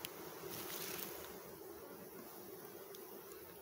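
Stingless bee colony buzzing at its hive box during a second feeding, a steady, fairly faint insect drone that holds throughout without speech.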